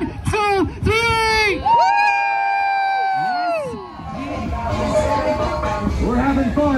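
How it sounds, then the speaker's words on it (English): Crowd of kids and adults at a Big Bounce America inflatable event screaming and cheering loudly after a countdown, high shrieks and whoops rising together, sustained for several seconds before settling into a noisy crowd hubbub. "Let me hear y'all scream on three."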